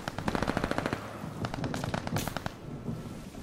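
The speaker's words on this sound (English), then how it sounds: "Hostiles are strafing us!" Video game gunfire during ranked online play as hostiles strafe: rapid bursts of close automatic fire, a dense stutter of shots that pauses briefly and then resumes, with no voices.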